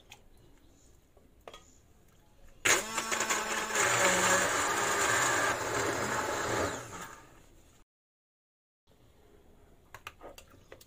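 A blender whirs steadily for about five seconds, blending tomato sauce with harissa chili peppers, loud and close, then cuts off abruptly into silence, with quiet kitchen noises on either side.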